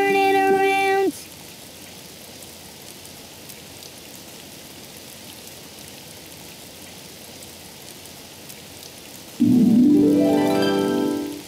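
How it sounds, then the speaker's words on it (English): Steady rain falls outside, a soft even hiss of drops on surfaces that runs for several seconds between brief bursts of voiced sound at the start and end. "Oh, it's raining outside."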